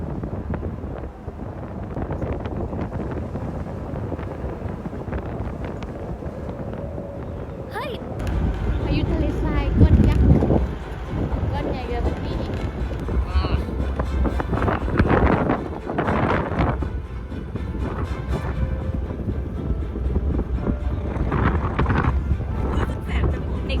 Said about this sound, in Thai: ครั้งแรกเลยเนี่ยที่เจอพายุทะเลทราย